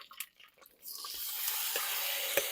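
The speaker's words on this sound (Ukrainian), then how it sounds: "Так, вкидаємо нашу другу партію м'яса." A second batch of meat hits a hot kazan over an open fire, bursting into a steady, loud sizzle of frying that continues throughout after a few quieter clinks.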